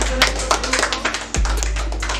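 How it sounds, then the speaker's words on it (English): A small group of people claps hands briefly and unevenly, with a few scattered close taps over a low background hum. "Let's all clap for the track"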